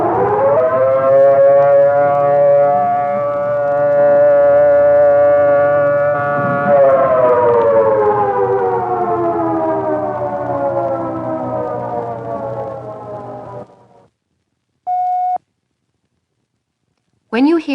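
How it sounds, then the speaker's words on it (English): Civil defense siren holds a steady alert blast with a harmonic-rich wail that later sags slightly in pitch, loud and dominant, then cuts off, followed by a brief electronic tone. "The alert signal is a steady blast of 3 to 5 minutes,"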